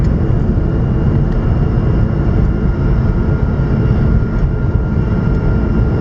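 A Mitsubishi Galant VR4 fitted with a Black Widow catback exhaust cruises at highway speed. It gives a steady, low, broadband road and engine drone that stays even throughout, with no talk.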